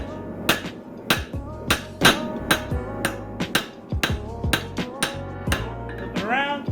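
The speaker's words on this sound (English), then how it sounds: "lay the blade flat, put it up at a slight angle, right on the edge of an anvil," A hammer strikes the edge bevel of a Damascus steel chef's knife on the edge of an anvil, about a dozen sharp ringing blows in an uneven rhythm, close and loud.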